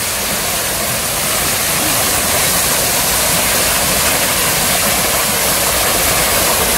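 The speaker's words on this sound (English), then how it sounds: "There's a nice little waterfall into a small, probably man-made canal there that takes the water away." Small waterfall pouring into a narrow man-made canal at an outdoor park, a constant close, loud broadband rush of falling water with no breaks.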